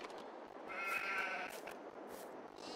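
A sheep in Farming Simulator 22 gives one wavering bleat over a steady hiss of farmyard ambience, moderately near, with no talk.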